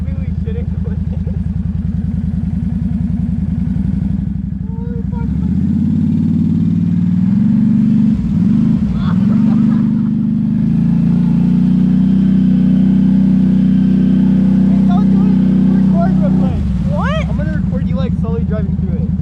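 Can-Am off-road vehicles grind through deep mud during a storm, engines droning loud and close, rising and falling as they work through the muck. Voices can be heard underneath.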